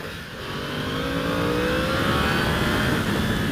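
A 2016 Yamaha R1S motorcycle accelerating hard, its engine note climbing steadily through the gears and growing louder, close and alone with no talking.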